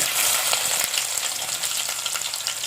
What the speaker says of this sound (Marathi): तेल तर तापला कांदा टाकूया